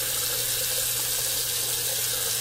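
Water runs steadily from a tap into a sink while a bar of shaving soap is dipped to wet it, a constant bright hiss close by with no talk.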